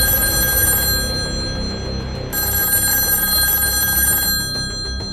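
A telephone rings loudly for a call to a police control room, two long bursts of bright electronic ringing with a short pause between them, alone without voices.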